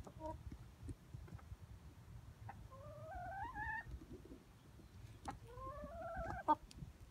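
A chicken held in someone's arms clucks and lets out a few rising, drawn-out squawks, close and soft, with quiet talk in between.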